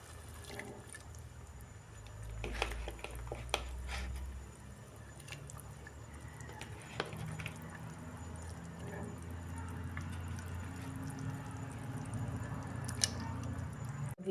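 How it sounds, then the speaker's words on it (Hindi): Fish drops into a pot of boiling water for a fish curry, with quiet, close splashes and soft squishy plops over a low simmering bubble and occasional small clinks. "ये देख सकते हो अभी इसमें बॉयल हो रहे हैं पानी, तो इसमें फ़िश ऐड करेंगे"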